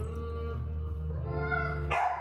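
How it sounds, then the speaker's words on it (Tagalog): A dog barks and yips upstairs in a pet shop, a few sharp, fairly loud barks over a steady hum of the shop, with a high whining tone under them. "Medyo maingay lang yung aso sa taas."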